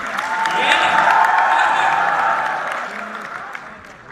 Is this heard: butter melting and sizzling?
no